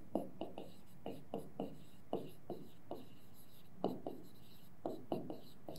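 Pen or pencil strokes writing out factors of an algebraic term in a maths lesson, a steady run of short scratchy taps and scrapes, close and fairly quiet, with no talking over them.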